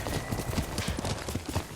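Horse hooves from the Ghost of Tsushima video game, a rapid, steady clip-clop of galloping on ground mixed into a dense, loud game soundscape, without a break across the short stretch.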